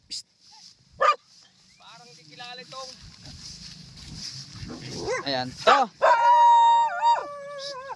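A dog at a hut in the middle of rice paddies on a duck farm barks a few times, then breaks into loud yips and drawn-out howls close by, with people talking over it.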